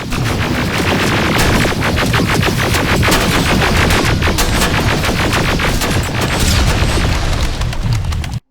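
Dense gunfire in the game Terminator Resistance, rapid automatic bursts and heavy booms overlapping in a loud, continuous barrage of battle noise that cuts off abruptly at the end.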